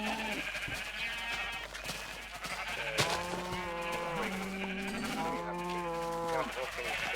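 Sheep in Minecraft bleat repeatedly in wavering, overlapping calls, close and loud, with a steady background hum under them.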